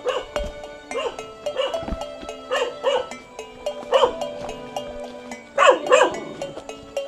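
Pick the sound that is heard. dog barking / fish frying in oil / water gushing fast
dog barking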